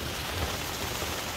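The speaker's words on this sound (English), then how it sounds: "It's been pouring rain all night." Steady rain pours down on a camping tent at a campground in Jasper National Park, a dense, even hiss with soft low rumbling, continuous and fairly close throughout.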